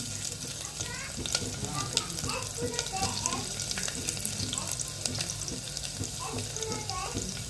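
Garlic and onion sizzle steadily in a hot pan for a khichdi of toor dal and rice, with continuous frying crackle and occasional stirring clinks.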